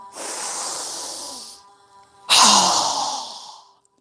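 Two forceful breaths out through the mouth during a yoga breathing exercise, each a loud whooshing hiss lasting over a second, separated by a short pause; no talking.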